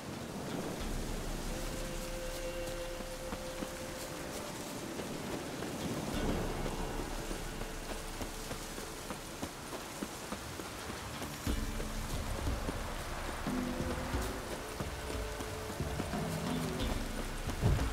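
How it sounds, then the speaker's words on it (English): Steady rain falls in the Witcher 3: Wild Hunt game world, a constant hiss with low rumbling like distant thunder rolling underneath, no voices. "Looks like rain."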